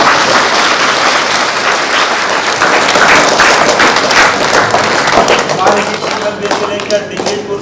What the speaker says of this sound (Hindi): हम उन्हें भी धन्यवाद स्वरूप जोरदार तालियों के साथ उनका